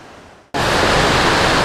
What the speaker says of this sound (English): the river has really swollen up and it's gonna be hard for us to cross